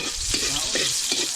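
Onions fry with garlic in a pan, giving a brief, steady close-up sizzle with a few scraping stirs of a spoon through it.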